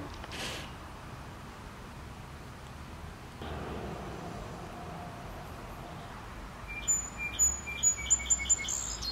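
Birds chirp and sing outdoors, faint at first with a brief call near the start, then a run of louder, closer rhythmic chirps toward the end over a quiet background hum.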